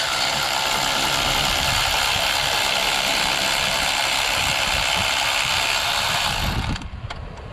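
A ratchet wrench turning a bolt on a Jeep alternator, a steady mechanical clicking and whirring held close and loud for several seconds before cutting off near the end.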